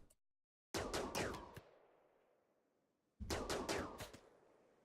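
Gunfire from the RimWorld video game comes as two rapid bursts of several sharp shots each, loud and close, with a short pause and a decaying tail between them.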